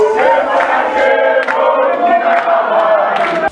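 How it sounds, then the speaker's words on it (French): A large crowd at a political congress cheers and shouts for joy, a loud, dense and continuous roar of many voices with chanting cries rising throughout, heard close and alone. "Cris de joie, acclamations, chants de triomphe ont constitué les grands axes du congrès"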